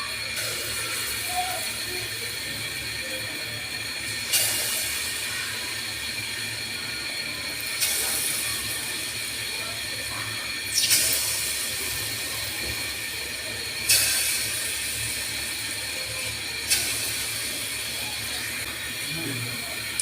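Small rounds of palm fruit fritter batter (taler bora) frying in hot oil in a pan, giving a steady bright sizzle with a few louder bursts of crackle every few seconds.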